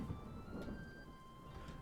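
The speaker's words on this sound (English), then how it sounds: "It started raining." Rain in the video game Dwarf Fortress (Masterwork mod): a soft continuous patter of falling rain with a faint low rumble, heard alone and quietly.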